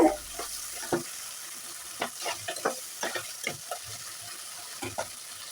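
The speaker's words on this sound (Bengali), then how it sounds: "আমি তো আলুটা কষানো প্রায় হয়ে গেছে" Potato pieces are sautéed in a pan, a quiet sizzle under a steady run of sharp taps and scrapes from a spatula stirring every second or so, with no talking.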